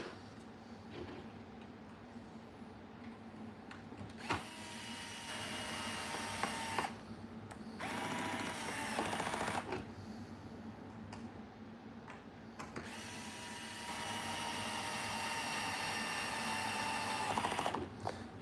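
A powered screwdriver works on a Traxxas Sledge RC car, whirring in repeated bursts of several seconds separated by short pauses, close and moderately loud, with small clicks and handling noises between runs.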